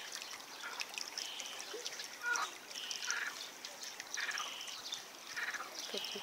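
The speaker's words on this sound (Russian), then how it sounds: "У нас тут мостик. И течет вода." A small stream trickles faintly beneath a little footbridge: a soft, steady wash of water with scattered high chirps from birds nearby, and no voices.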